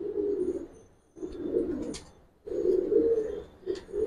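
Giribaz pigeons cooing up close, three long rolling coo phrases separated by short pauses, loud and clear with no talk.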